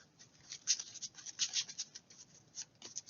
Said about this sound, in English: Trying to give a good shuffle here.